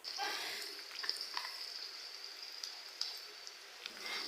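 Bay leaves, cinnamon and cardamom crackle in hot oil in a pot for goat nihari, a soft continuous sizzle with scattered small pops and light stirring, fairly quiet and without talk.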